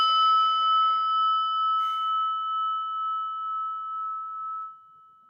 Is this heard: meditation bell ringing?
yes